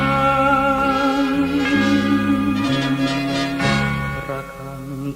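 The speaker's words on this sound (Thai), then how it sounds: "ระฆังกังวานแววผ่านลมพัด" A Buddhist temple bell rings out loud and sustained with rich overlapping overtones, struck repeatedly so each new stroke swells over the lingering hum of the last before it slowly fades.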